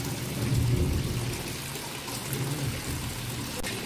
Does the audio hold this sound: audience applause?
no